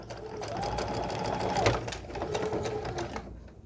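A home sewing machine stitches fabric with a steady mechanical whir, fairly quiet and close, briefly pausing at the midpoint before running on.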